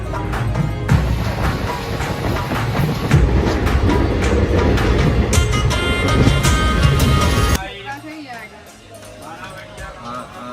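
A train leaving Gandhinagar rumbles loudly along the tracks with a steady rattling roar that drops away near the end, leaving a quieter, softer background.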